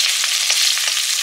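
Rohu fish fries in hot oil with a loud, dense, continuous crackling sizzle, close up, with a few faint ticks of the pan.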